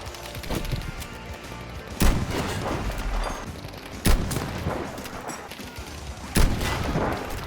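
Battlefield V combat: sustained crackle of gunfire punctuated by three heavy explosive booms spaced a couple of seconds apart, loud and close, with no voices over it.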